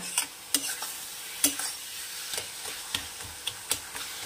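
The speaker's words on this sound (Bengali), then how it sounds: "এরকম করে খুন্তি দিয়ে দিয়ে পুরো এরকম মাখা মাখা করে নেব।" A metal spatula mashes brinjal and egg in a pan, giving a string of short scraping and tapping strokes at an uneven rhythm over a soft sizzle, heard close with no talk.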